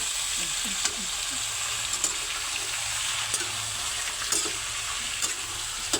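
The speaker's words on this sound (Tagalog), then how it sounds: "ginisa sa luya at saka tapos bawang" Squid adobo sautés with ginger and garlic in a pan, a continuous loud sizzle and hiss with occasional stirring clinks, no talking.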